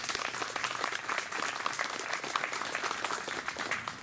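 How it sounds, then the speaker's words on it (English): An outdoor audience at a Yorktown Victory Day ceremony applauds steadily, a moderately distant wash of many hands clapping throughout. "Let's give them applause."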